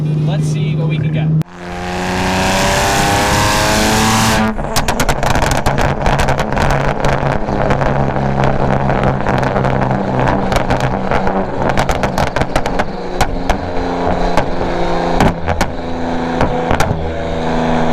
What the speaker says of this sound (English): You can actually hear the flame going through the exhaust